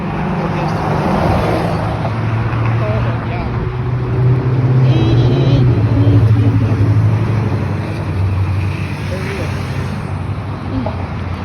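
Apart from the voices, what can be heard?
road traffic passing outdoors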